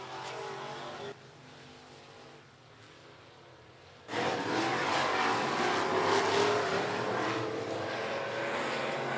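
Race cars at Golden Triangle Raceway Park during a heat race on the last lap, with a low engine drone that swells suddenly into a loud, sustained roar of passing cars.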